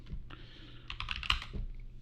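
Quick typing on a computer keyboard during a late-night game engine programming session, a handful of close, crisp key clicks in an irregular burst, quiet and with no talking over it.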